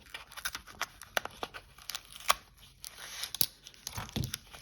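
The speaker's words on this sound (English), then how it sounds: "Very carefully get that tape off." Packing tape peeled off a knife package box, close and quiet: a run of crackling, tearing rips with sharp snaps, no talking.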